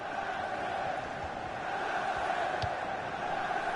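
Video game football crowd singing during a Manchester United career mode match: a steady, continuous mass of voices with a sustained chant-like tone throughout, no clear breaks.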